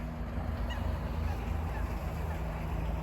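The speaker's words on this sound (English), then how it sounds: "There's the geese. There they are." Faint goose honks drift in from a distance over a steady low engine rumble and lapping water.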